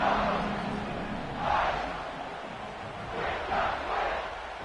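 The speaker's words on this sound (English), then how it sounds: "this crowd is feeling themselves after that last drive" A loud football stadium crowd at Autzen Stadium roars and cheers in broad swelling waves that rise and fall, a dense distant mass of voices with no single speaker standing out.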